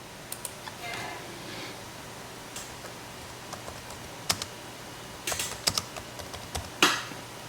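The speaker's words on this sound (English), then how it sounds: "Practice typing your response in the response box" Keys on a computer keyboard are typed in scattered bursts of close, crisp clicks with pauses between, over a quiet room hum.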